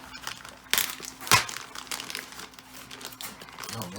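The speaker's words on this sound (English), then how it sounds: "So I'll just gonna unpack this real quick here." Crinkling plastic packaging is handled and torn open to unpack a CERATAC 10.5-inch 5.56 rifle upper, with close crackles and two sharper crunches, no voices.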